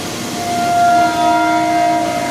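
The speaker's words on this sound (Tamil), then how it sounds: "நம்ம ரயில் புறப்பட போகுது. அதுக்கான நீண்ட ஒலிப்பான் பின்பக்கத்துலேருந்து வந்துருச்சு." A long, steady horn from a departing MRTS electric train on the Chennai line between St. Thomas Mount and Chennai Beach, sounding from some distance behind and holding one sustained tone throughout.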